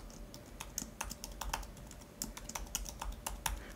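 Someone types a password on a computer keyboard, a quick irregular run of crisp key clicks, close and quiet with no speech.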